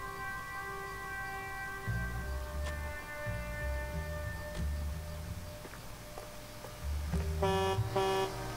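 Car horn honking in L.A. Noire, sounding as bright sustained tones layered over low engine and street rumble, with a louder burst of repeated honks near the end.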